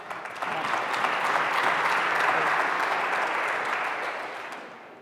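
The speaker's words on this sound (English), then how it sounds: "We got applause for the abortion one." An audience at a Christian panel discussion applauds, a dense, steady wash of clapping that swells in and fades out over about five seconds, with no one speaking over it.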